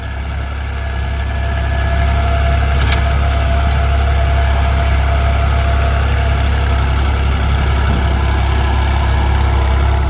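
Tractor engine, a Farmtrac 45 or New Holland 3630, running an 8-foot Param rotavator in a field, a loud, steady close-up drone that holds without change under no strain.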